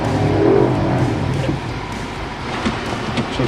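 A 2022 Subaru Outback Touring's engine strains in low range, first gear, while stuck on a sandy hill, making a steady, loud, rough roar mixed with wind and grinding noise.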